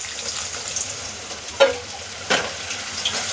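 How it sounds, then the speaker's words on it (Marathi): Half a cup of water added to spices frying for a Chinese-style chicken chilli gravy: a soft, steady sizzle near the mic, punctuated by a few scraping stirs of a spoon. "आता आपण ह्यामध्ये थोडंसं अर्धा कप फक्त पाणी टाकणार आहे"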